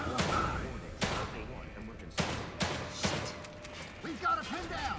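Gunfire in The Evil Within video game, a handful of sharp shots spaced about a second apart with mechanical clatter between them, while a person speaks over the action.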